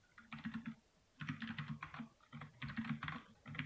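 Typing Python code on a computer keyboard during a lesson: bursts of soft, rapid key clicks in three or four quick clusters separated by brief pauses, close and fairly quiet, with no talking.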